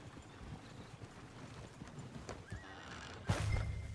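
Horse in Red Dead Redemption 2 neighing out loud near the end, after soft hoof clip-clops and quiet ambient background.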